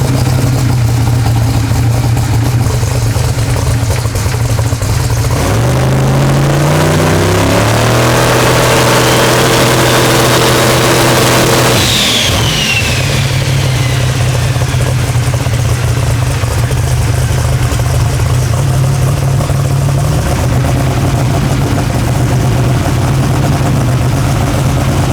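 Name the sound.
4200hp SMX wagon engine revving on rev limiter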